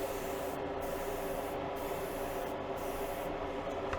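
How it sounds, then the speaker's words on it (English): Spray paint hissing steadily as another coat goes onto a Buick part, a continuous close airy spray with brief pauses in the high hiss. "We're going to spray it again."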